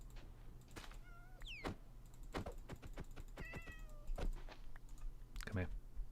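Several cat meows from Minecraft, high and gliding, scattered through the clip over a steady hum, with keyboard clatter and clicks alongside.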